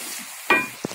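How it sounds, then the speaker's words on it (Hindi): Chopped onions hit hot oil in a kadai, giving a brief burst of sizzling frying followed by a short stirring clack. "अब हम इसमें चॉप की हुई प्याज डाल लेते हैं। इसको अब हम अच्छे से भून लेंगे"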